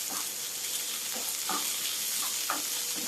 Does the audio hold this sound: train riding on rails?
no